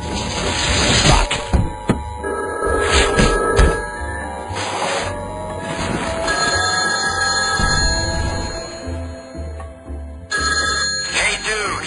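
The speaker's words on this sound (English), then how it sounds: "Answer your phone." A telephone rings in the video game Garry's Mod, a loud, repeating electronic ring running throughout amid game noise and other clatter.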